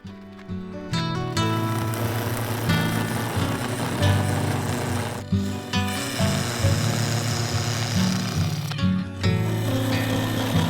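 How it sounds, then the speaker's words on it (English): A woodturning parting tool cuts into a spinning piece of wood and resin on a lathe, giving a loud continuous droning hum with a scraping edge, briefly easing off twice before resuming. "The parting tool was perfect for this."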